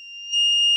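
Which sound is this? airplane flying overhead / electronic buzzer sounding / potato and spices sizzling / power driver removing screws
electronic buzzer sounding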